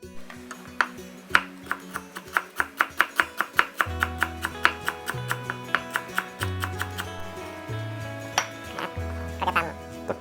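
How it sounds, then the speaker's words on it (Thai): Knife chopping fattened beef on a board for a Thai beef stew with betel leaves, a steady run of sharp, close chops that grows heavier and slower midway, with faint background tones. "หั่นเนื้อนะครับ"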